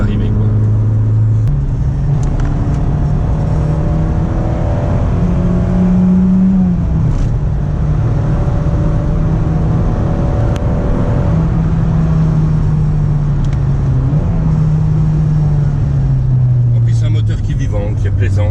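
A Volkswagen Golf 1 GTI engine drones while driving, heard from inside as a loud, steady hum whose pitch slowly rises and falls with speed changes, with someone talking over it at times.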